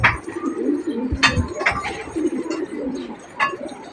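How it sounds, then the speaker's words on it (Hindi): A flock of domestic pigeons coos near at hand, soft low warbling calls overlapping in an uneven rhythm, with a few sharp clicks and wing-flutter bursts between them. "ये काफ़ी सारे कबूतर हैं हमारे,"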